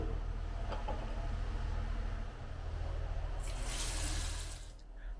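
Steady rush of hot water pouring from a bathroom tap into a vessel sink, continuous and close, easing off briefly then swelling again before stopping near the end.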